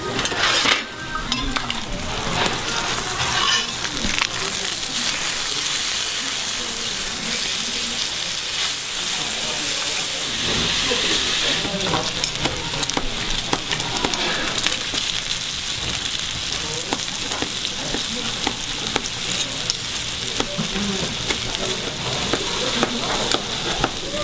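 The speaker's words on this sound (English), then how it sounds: "the steam that's coming off of this pork is incredible" Pork belly sizzling and steaming on a hot stone at a Korean barbecue, a loud, dense, continuous crackle and hiss that persists throughout with no pauses.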